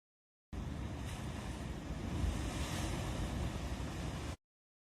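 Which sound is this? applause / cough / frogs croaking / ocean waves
ocean waves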